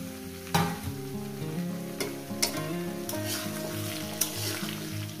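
Drumsticks, ridge gourd and green chillies fry in a pan with a steady, loud sizzle, punctuated by a few sharp clacks of a spatula stirring.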